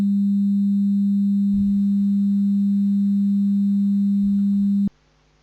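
A pure 200 Hz test tone holds steady and loud for nearly five seconds, then cuts off abruptly, leaving near silence with a couple of faint low thumps during the tone.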